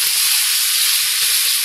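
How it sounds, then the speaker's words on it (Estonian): Onion and carrot sizzling and stewing in a pan as they soften, a steady close, loud hiss with faint crackles and no talking. "Nii, ja nüüd segan need ära, lasen tal tegelikult haududa neid natukese."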